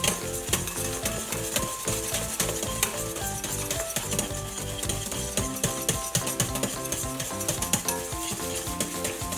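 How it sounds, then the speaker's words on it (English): Oreo cheesecake filling stirred in a pot as it thickens, with rapid repeated scraping and tapping of a utensil against the pan, up close over background music. "We're just gonna keep stirring it until it thickens up."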